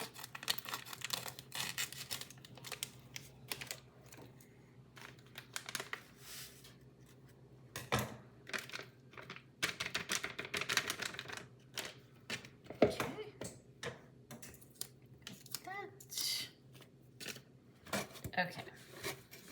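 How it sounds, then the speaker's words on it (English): Scissors snip and crinkle through a plastic packet in short bursts of cutting and rustling, close by and fairly quiet. "So I've got my mixer and a pair of scissors to open up the packet."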